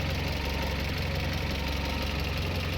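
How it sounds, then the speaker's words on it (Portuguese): A 1.8 engine in a Ford Del Rey GLX idles smoothly and steadily in a mechanic's workshop, a continuous close, even rumble with a regular pulsing beat and no talking. "O motor aqui funcionando sereninho, tá?"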